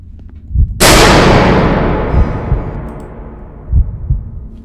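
A single loud, close pistol shot from the Baldi's Basics video game cracks sharply and then rings out in a long decaying echo, followed by a few dull thumps.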